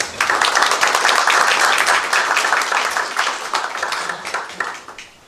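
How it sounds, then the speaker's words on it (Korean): An audience at an annual Korean prayer breakfast gathering in New York claps together, a loud dense burst that gradually thins out into scattered claps at the end. "네, 다 같이 박수 부탁드리겠습니다."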